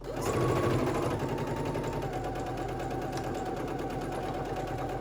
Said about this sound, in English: Let's get that serged.